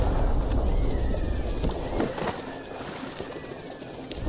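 Birds attacking in combat in the video game Sunless Sea, a dense burst of flapping and squawking game effects, loud at first then easing off, no speech.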